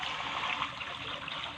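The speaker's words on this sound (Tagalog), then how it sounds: "Nagmumula sa bato yung tubig" Cold spring water trickling steadily from rock, a continuous close babbling flow with no voices.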